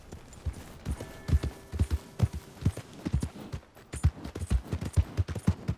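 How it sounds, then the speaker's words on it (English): Horse hooves clip-clop at a steady walking rhythm in Red Dead Redemption 2, close and clear, with faint ambient game sound in the background. "My horse!"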